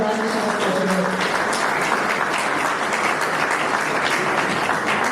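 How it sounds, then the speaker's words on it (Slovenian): Steady, dense applause from an audience honoring a pensioners' society choir at a concert, continuous and fairly loud from start to finish with no talking. "najprej en aplavz za njih"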